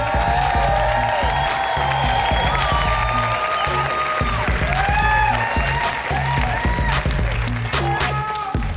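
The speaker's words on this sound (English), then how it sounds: "need y'all to give a big, big round of applause for Amberia Allen" Comedy club audience applauds and cheers steadily, a dense close wash of clapping with whoops and voices mixed in, as a stand-up comedian is welcomed to the stage.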